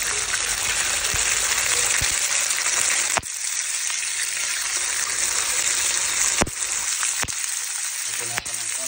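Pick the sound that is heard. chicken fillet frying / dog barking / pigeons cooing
chicken fillet frying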